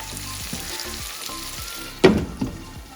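Tomatoes cooking under a lid in a pan for mash daal, giving a steady frying sizzle with bursts of louder crackling near the end, close and with no voices.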